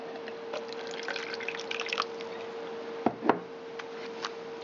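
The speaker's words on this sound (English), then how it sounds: "now I have the filter in the funnel in the cup, and we're going to pour the solution into it." Gold recovery solution drips and trickles through a coffee filter in a funnel into a cup, a faint irregular patter of small drops with a couple of louder splashes, alongside a steady low hum.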